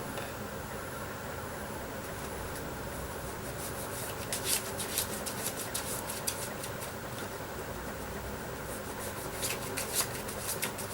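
Tarot cards are shuffled up close in a continuous, dense riffling and rubbing that carries on throughout, with brief brighter flutters near the middle and toward the end.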